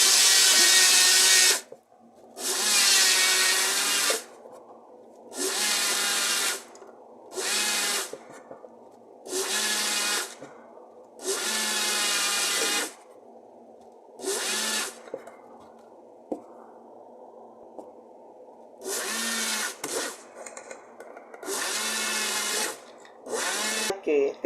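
Blender grinding granulated sugar into homemade icing sugar, running in repeated loud whirring bursts of a second or two separated by short pauses, with a quieter hum between some pulses.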